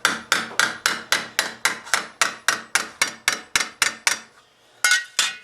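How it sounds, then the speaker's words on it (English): A curved-face hammer beating a steel mitten gauntlet, about fifteen bright, ringing metallic blows at an even, brisk rhythm up close, a short pause, then two more strikes. "Sometimes it helps to have a hammer with a slightly curved face."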